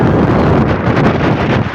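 Strong wind on Camiguin Island buffets the microphone with a loud, continuous rumbling roar, gusting unevenly throughout.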